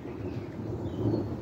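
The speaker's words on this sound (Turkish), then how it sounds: "Biraz önce bizim üzerimizde gök gürültü sesi geliyordu." Thunder from a passing storm over a picnic area rumbles in a low, continuous roll, distant and fairly soft, with no voices.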